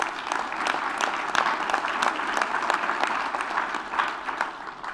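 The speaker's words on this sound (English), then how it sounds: "So let's give them all a round of applause." An audience at a board offsite meeting gives presenters a round of applause, dense overlapping clapping that stays steady and fairly close for several seconds.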